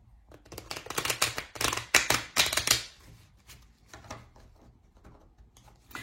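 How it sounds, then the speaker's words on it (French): A deck of cards is shuffled in several quick, crisp riffling bursts up close, followed by quieter scattered card taps and handling. "Alors, on va mélanger le jeu."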